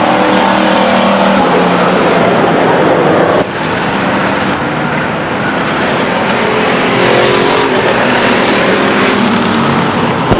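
Race cars roar around the oval at Stockton 99 Speedway, a loud continuous engine drone from several cars at once, with revving rising and falling as they come off the turn.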